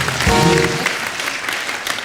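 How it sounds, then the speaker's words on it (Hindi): Applause from a television comedy show's studio audience, a steady wash of clapping from many hands, fairly loud, with a brief voice near the start. "तो वो इनके लिए जोरदार ताली हो जाए"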